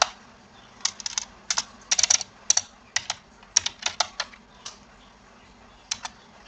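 Code being typed on a computer keyboard, crisp close keystrokes in short irregular bursts with brief pauses between words, over quiet background hum and no talking.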